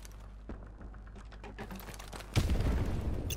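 A grenade explodes in Modern Warfare Remastered, a sudden loud boom with a rumbling noisy tail following a run of light clicks and taps.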